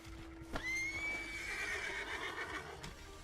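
A horse in a Western video game gives one loud rising whinny that holds and wavers before trailing off, close and alone.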